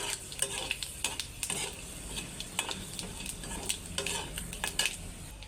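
Bay leaf and panch phoron crackle and sizzle in hot mustard oil previously used for frying fish, with steady frying hiss and repeated scrapes and clinks of a spoon stirring in the pan.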